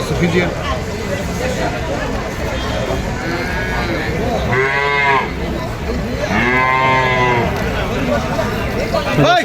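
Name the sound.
calves mooing on a farm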